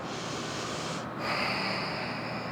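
Yoga breathing through the nose, a forceful airy exhale followed by a sharp nasal inhale, close and steady, with no speech.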